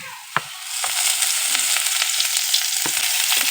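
Green chilies and chopped onion hitting a hot wok, a loud continuous sizzle with a sharp clang at the start and occasional knocks of a spatula stirring, close and dominant.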